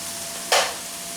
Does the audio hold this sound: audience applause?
no